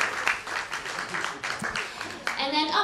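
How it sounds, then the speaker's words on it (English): Audience applause after a call to thank an event production team at a campaign kick-off, with broadband clapping swelling and fading in bursts for about three seconds, mixed with crowd noise. "So let's give them a big round of applause."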